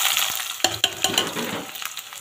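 Onion and ginger hitting a pan with cumin seeds, bursting into a loud sizzle with a few sharp spatula scrapes and clatters, close by and with no voices.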